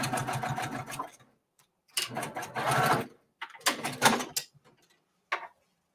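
A sewing machine stitches a quilt tack-down line close to an inside seam on a Kimberbell mini-quilt, running in three steady bursts of a second or so each with pauses between, then one short final burst.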